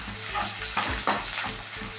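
Onions sautéing in a pan for pattani kurma, a steady sizzle and crackle of frying with a few stirring scrapes and soft clunks, close and continuous.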